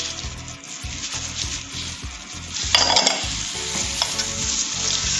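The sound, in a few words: whisking black cocoa and vanilla cupcake batter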